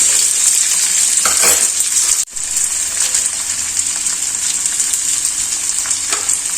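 Onions sizzle loudly in a pan for a Kerala mango thoran while being stirred, giving a bright, steady hiss with soft scraping strokes and a brief sudden dip partway through.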